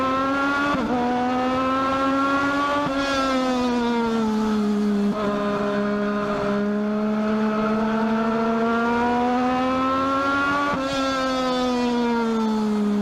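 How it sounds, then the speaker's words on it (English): Race cars roar side by side out of turn four on a dirt speedway during a Legends double main event, engines droning loud and close with rising and falling revs across the whole stretch. "Treidel, Newmeyer, fender to fender, door to door as they come out of turn number 4"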